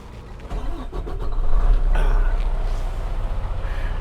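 A commercial truck engine cranks, catches and settles into a steady, rumbling idle, recorded up close with no talking.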